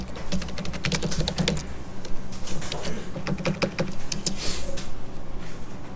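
Keys click rapidly on a computer keyboard while entering AutoCAD commands, including pressing I and Enter, in quick bursts of close, crisp tapping with short pauses between runs.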